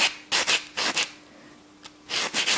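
Silk dressing being rubbed with a white block, giving several short, close rasping strokes in quick pairs, separated by brief pauses.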